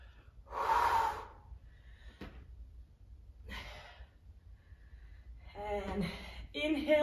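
Heavy breaths during a full-body dumbbell interval workout at home: a strong, broad exhale near the start, then fainter breath bursts and a few louder, rougher gasps toward the end, close and alone with no talk.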